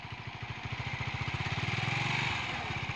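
A Honda Titan motorcycle pulls away in first gear, its low engine chugging in an even, close rhythm that builds slightly and then changes pitch near the end.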